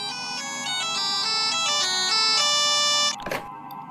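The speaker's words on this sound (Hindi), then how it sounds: "अचानक अशोक का फ़ोन बज उठता है।" A mobile phone rings with a bright melodic electronic ringtone that plays continuously for about three seconds, then cuts off into a short burst of noise.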